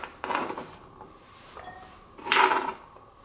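Sliced celery tumbles into a pan already holding mushrooms, giving a couple of soft clattering scrapes and a brief louder rattle near the end, with quiet kitchen background between.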